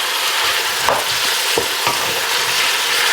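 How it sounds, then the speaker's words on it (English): Onions and peppers cooking down in melted lard in a pan give off a steady, close sizzle, broken by a few stirring scrapes. "Here's all the onions, the peppers, and now you just want to basically cook this down."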